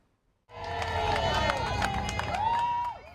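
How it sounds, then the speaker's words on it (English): A large crowd along the Seine in Paris cheers at the Olympic opening ceremony, a broad sustained roar of voices that swells in abruptly and holds steady, with scattered whistles and shouts on top. "Hundreds of thousands are gathered along Paris's Seine River to cheer on the procession of athletes"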